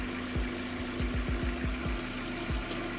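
An Opel Astra H engine idles steadily, a low drone with regular pulsing beats and no one talking.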